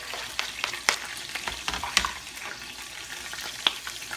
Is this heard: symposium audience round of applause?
no